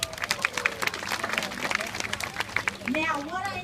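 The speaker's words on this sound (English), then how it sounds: "A round of applause for Lexi." Audience applause at a zoo bird show, a spread of hand claps close and mid-distance with crowd murmur, ending in chatter and an excited voice.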